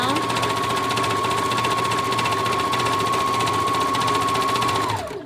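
A sewing machine stitches steadily around the neckline of a peasant-style dress, its fast even whirr running loud and close for about five seconds before stopping abruptly.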